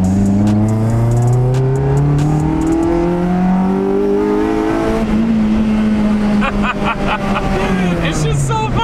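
Cheap used Honda Civic engine running rough while driving, a loud close droning hum that rises and falls steadily with engine speed, heard under people talking inside the low car.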